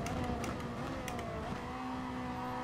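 Ferrari 458 GT4 race car engine at a steady high drone with a faint whining tone, heard from the cockpit during a GT Sport race, fairly quiet and without talk.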